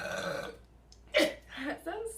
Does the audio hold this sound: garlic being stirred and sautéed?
no